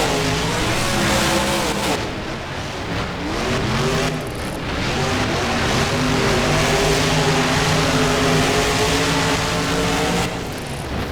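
Monster trucks roar off the start line in a stadium race simulation, engines revving hard and climbing in pitch through repeated gear shifts, loud and close throughout.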